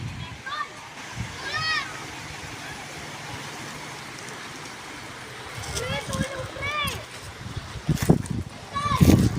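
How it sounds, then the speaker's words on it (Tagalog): Water splashes intermittently as people play in the sea at Baler, Philippines, with excited voices and children's chatter over a low wash of waves. "nagtatampisan na po sila sa dagat"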